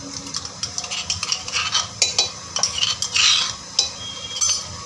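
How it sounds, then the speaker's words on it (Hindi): Ginger garlic paste fries in a pan while a utensil stirs it, making close, irregular scrapes and metallic clinks over a faint sizzle, with no voices. "अब इसको अच्छे से भून लेते हैं अदरक लहसुन के पेस्ट में।"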